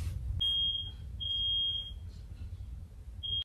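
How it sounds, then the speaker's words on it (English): A smoke alarm sounds three shrill, high-pitched beeps at uneven intervals over a quiet, low background hum. "That was the smoke alarm because my parents are cooking right now."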